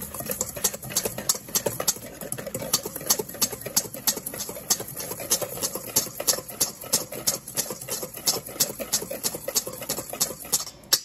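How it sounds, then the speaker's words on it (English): Ingredients for shelf-stable scalloped potatoes whisked in a jar, a fast steady clicking and rattling of the whisk against glass repeating evenly and close throughout, with no talking. "We're gonna give this a whisk."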